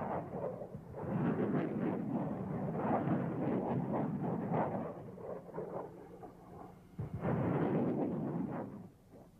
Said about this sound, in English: As we see in this test footage, the small submunitions blanket a wide area.